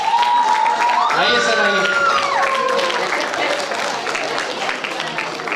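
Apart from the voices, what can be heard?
audience applause welcoming an author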